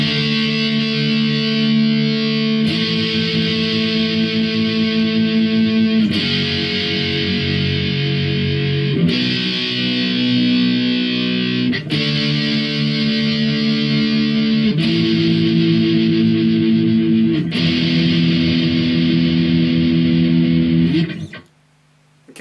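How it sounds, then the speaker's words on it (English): Distorted electric guitar power chords playing the chorus of a song, loud and alone, changing chord every few seconds and ringing out before stopping abruptly. "It's really simple power chords"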